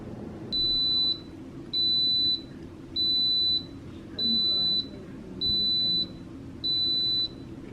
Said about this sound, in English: Alright, our timer has gone off.